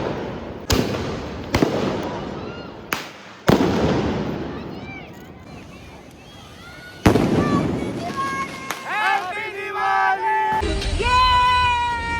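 Firecrackers burst during Diwali celebrations: several sharp, loud bangs come one after another, echoing outdoors. Voices chatter as the popping dies down.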